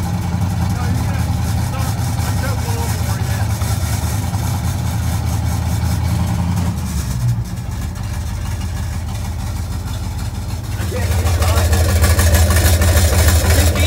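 A 1967 Chevy C50 truck engine idles steadily and loud up close, a continuous low rumble that dips briefly midway and then grows heavier near the end.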